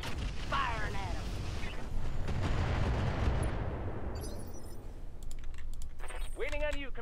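Mech weapons fire in a BattleTech match under the Roguetech mod: dense rumbling low-end blasts and crackle fill the first few seconds, tapering off, with game voice chatter and electronic beeps over the top.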